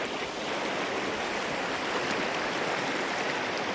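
A creek flows in a constant, close, full rushing wash with no pauses.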